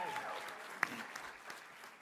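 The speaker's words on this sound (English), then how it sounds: "Give them a round of applause for that." Applause from an audience at a campus quiz championship event, heard as faint, distant clapping under a host speaking, with one brief sharp clap standing out.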